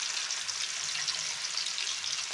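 Chicken 65 pieces frying in hot oil, a steady dense sizzle with scattered small pops and crackles, close and continuous throughout.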